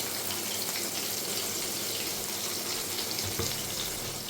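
Chopped onions fry in a pan with a steady, bright hiss and sizzle that runs loud and unbroken throughout, with no talking.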